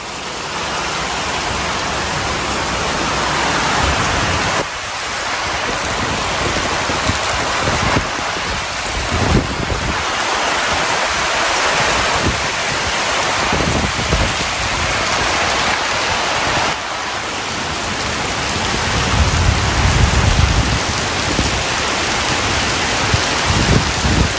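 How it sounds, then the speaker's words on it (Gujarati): Dense, steady monsoon rain in North Gujarat pours down with a constant broadband hiss, close and loud, with gusty rumbles of wind buffeting the microphone now and then. "જો વરસાદ"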